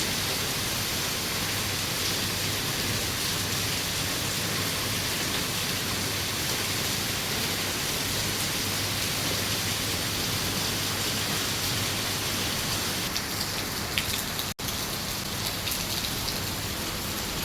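Steady heavy rain pours in a dense, unbroken roar, with the rush of a waterfall blending in throughout and no voices.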